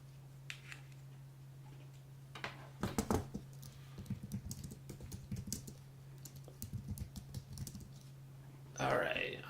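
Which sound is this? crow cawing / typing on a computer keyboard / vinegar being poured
typing on a computer keyboard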